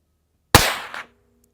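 A single sharp crack from a suppressed .22LR firearm, close and abrupt, followed by a brief mechanical rattle and a short fading tail, then quiet.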